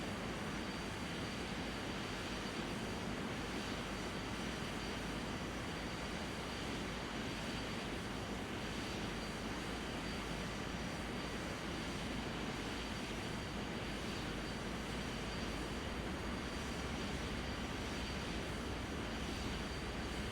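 Airplane engines in a flight simulator game give a steady broadband roar that fills the whole stretch at an even level without pauses, with no speech over it.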